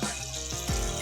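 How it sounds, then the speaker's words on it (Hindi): A little water poured into a karahi of tomato masala for chicken karahi, a brief close splash and gurgle over a soft watery hiss. "थोड़ा सा पानी ऐड करते हैं"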